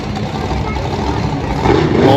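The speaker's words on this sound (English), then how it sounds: "That loud Vendetta truck going for his second hit." A Vendetta monster truck engine roars loudly in a Monster Jam arena, surging and swelling toward the end, with a voice speaking over the din.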